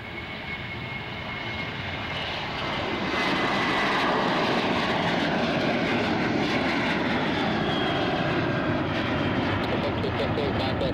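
Airliner jet engines at San Jose airport roar as a steady, loud rumble that swells after a few seconds and holds, while a radio voice talks over it.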